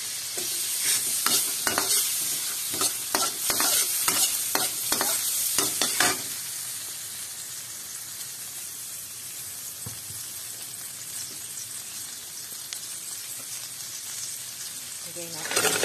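Garlic and onion frying in butter for pork pochero, a loud continuous sizzle with rapid scraping stirs during the first six seconds, then steady frying alone.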